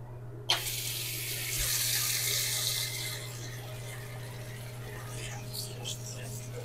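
Tap water runs steadily into a sink while tempura ingredients are rinsed. It is a close, continuous splashing rush that starts abruptly after a brief moment and keeps a fairly even level throughout.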